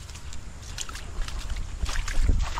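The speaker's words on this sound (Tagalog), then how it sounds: "Sobrang lakas ng hangin." Strong typhoon wind buffets the microphone in gusty, rumbling bursts outdoors near bamboo structures, loud and uneven throughout with no voices.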